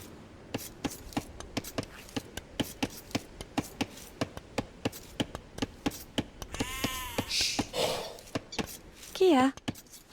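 Sheep bleating in Age of Empires II, a couple of short bleats late on, over a steady run of sharp, regular game clicks and taps.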